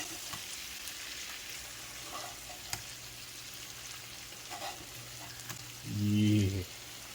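Chicken breasts sizzle steadily in a hot pan during basting, a constant crackling hiss with a few spattering pops and a brief low thump near the end.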